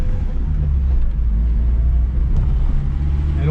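A restored Opel Corsa A runs with a steady, even low rumble, close and continuous throughout.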